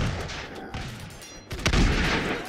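Gunfire in the physics battle game Totally Accurate Battle Simulator, a few sharp shots and booms, the loudest burst late, over busy battle noise.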